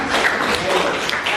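Classroom applause, a short burst of many hands clapping together at moderate volume.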